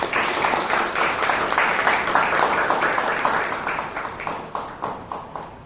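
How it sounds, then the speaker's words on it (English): A round of applause from a room full of people at a Toastmasters club meeting, steady dense clapping that holds for several seconds and then thins out toward the end. "the committee and the VP Education needs a big round of applause"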